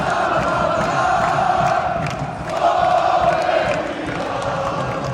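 A large crowd fills a football stadium before a Slovenia versus Portugal match, a dense, loud roar of many voices with swelling cheers and chants that rise and fall steadily throughout.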